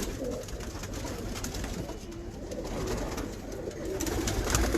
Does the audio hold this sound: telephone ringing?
no